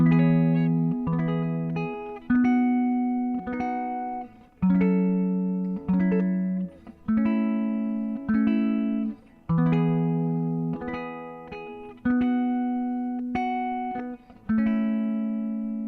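A guitar strums a slow chord progression, each chord ringing out in turn with steady, even rhythm and no talking.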